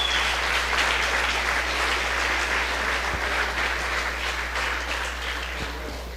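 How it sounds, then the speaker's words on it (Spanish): A church congregation applauds steadily during a sermon on forgiveness, a dense, sustained wash of clapping that fills the room and fades slightly toward the end. "Dale un aplauso al Señor."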